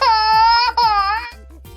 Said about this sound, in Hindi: ये तो छोटे बच्चे की रोने की आवाज है।